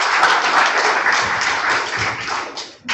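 Audience applause at a library memorial event, a dense steady patter of clapping from a crowd that holds fairly even and then fades out near the end, with no talk over it.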